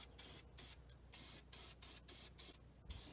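Short bursts of hissing spray from a rattle can of red paint on a Minneapolis Moline SH tractor in cold weather, about eight separate blasts in an even rhythm, close and fairly loud with brief quiet gaps between.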